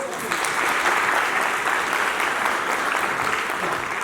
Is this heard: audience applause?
yes